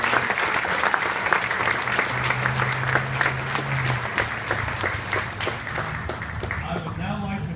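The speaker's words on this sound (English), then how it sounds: "So let's give yourselves a round of applause." An audience at a Sea Cadets graduation ceremony claps steadily and loudly for several seconds, a dense wash of hand claps with some voices and crowd noise mixed in, tapering slightly toward the end.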